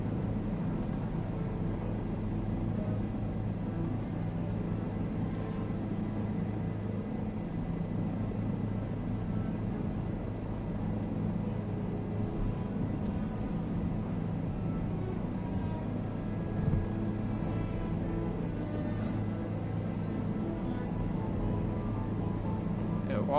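A Bell 407 helicopter in flight, heard as a continuous low rotor and engine rumble that stays steady and fairly loud throughout, with no talk.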